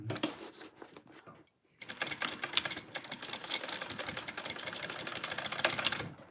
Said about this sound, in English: Let me just get my little piece of leather off of there. And sew that over one more time.